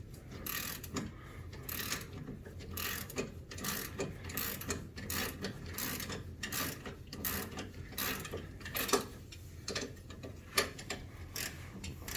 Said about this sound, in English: Handy dandy wrench extender.